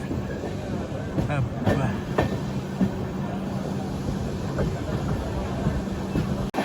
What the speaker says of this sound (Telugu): ఏదో ట్రైన్ వస్తుంది అవతల సైడ్ ట్రాక్లో